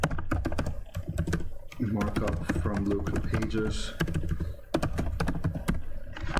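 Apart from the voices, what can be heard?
typing on a computer keyboard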